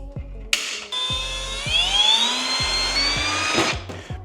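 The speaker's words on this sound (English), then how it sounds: "Time to drill some holes." Power drill boring holes in metal for mounting a Wilwood tandem brake master cylinder, one sustained whining run that rises slightly in pitch, close and loud, with clicks and thumps before and after and no talk.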